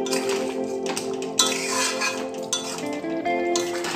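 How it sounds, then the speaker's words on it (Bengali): Roasted coriander and cumin powder being mixed into potatoes in a cooking pot for Bengali aloo dum, with a steady scraping and clinking of a spoon against the pot, close and fairly loud, and no talk. "এখন আমি ভালো করে মশলাগুলো মিশিয়ে নেব।"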